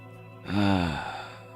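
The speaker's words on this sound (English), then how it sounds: "I'm still yawning because I'm fucking tired." A tired person lets out a single drawn-out yawn, close and fairly loud, its voiced tone sliding downward before fading into quiet.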